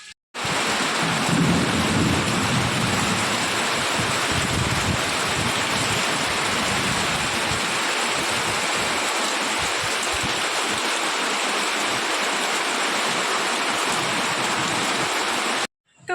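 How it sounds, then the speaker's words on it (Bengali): Thunder rumbles deeply during a heavy rainstorm, its low roll swelling in the first few seconds before fading into a loud, constant downpour that drums on nearby surfaces and then stops abruptly. "কি মেঘ ডাকছে আওয়াজ হচ্ছে"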